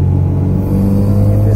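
Steady low engine rumble from a car on the move with a billet shifter and bushings, droning continuously and loud up close, with the engine note holding fairly even throughout.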